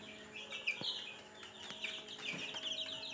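A group of 13-day-old free-range chicks cheep and peep in a busy, overlapping chorus, with soft scuffs around them, close but fairly quiet and without talking.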